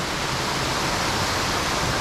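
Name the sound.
waterfall at a resort swimming pool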